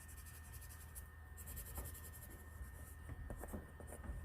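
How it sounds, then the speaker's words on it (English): A blender pencil being rubbed over colouring paper in small areas, soft scratchy strokes repeating quietly and close up. "So this is a blender pencil, and like I said, I don't use it a whole lot, but if you want, it's great for small areas."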